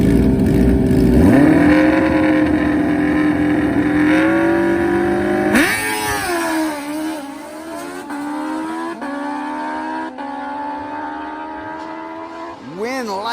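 Drag-racing motorcycles, a Suzuki Hayabusa against a 1000, launch with loud high-revving engines that climb and shift repeatedly, then fade into a sustained roar as they pull away down the strip.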